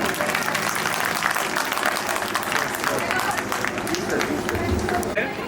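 Applause rises from a school annual function audience welcoming the principal, steady crowded clapping with a babble of voices underneath, moderately loud throughout.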